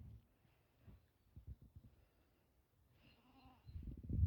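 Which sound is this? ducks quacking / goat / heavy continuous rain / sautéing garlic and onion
goat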